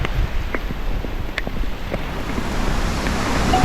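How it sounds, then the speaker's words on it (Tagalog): Sea surf washes against the shore at a beach with a steady, broad rush and wind buffeting the microphone. The sound is fairly loud and continuous, without distinct breaking crashes. "Dagat!"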